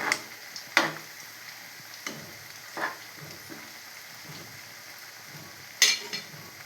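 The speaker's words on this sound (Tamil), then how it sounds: "இந்த மாதிரி சேப்பக்கிழங்கு ரோஸ்ட் சிம்மில் வச்சு அப்படியே பெரட்டி விட்டோம்னா வெந்துடும்" Taro root roast fries on low heat in a pan and is tossed now and then, with quiet, steady sizzling broken by several sharp scraping and clinking stirs, close and fairly faint.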